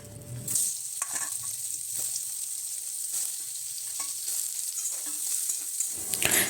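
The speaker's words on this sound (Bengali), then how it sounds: "তারপর ওই কড়াইয়ের মধ্যে আমি সোয়াবিনগুলো ভেজে নেব।" Soybean chunks fry in oil in a wok with a bright, continuous sizzle, punctuated by occasional soft scrapes of stirring, close and steady throughout.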